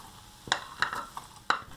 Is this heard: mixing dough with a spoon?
yes